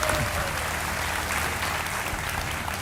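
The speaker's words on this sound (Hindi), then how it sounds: "तालियों के साथ आपका हम स्वागत करते हैं" A studio audience at a Hindi TV quiz show applauds steadily to welcome a guest, a dense continuous wash of clapping that holds at an even level throughout with no pause.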